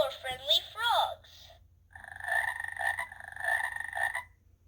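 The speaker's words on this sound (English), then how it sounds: "Abby sees four friendly frogs" Frog croaking from an interactive Sesame Street button sound book: a reading voice comes first, then repeated loud, close, electronic-sounding croaks pulse in a quick rhythm for about two seconds.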